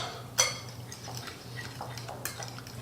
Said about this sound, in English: then you just mix this up real quick like